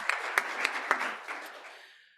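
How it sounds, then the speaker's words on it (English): A small meeting audience claps for a presenter, with a handful of distinct, fairly close claps standing out over light applause that quickly tapers off to silence. "Round of applause for Andrea."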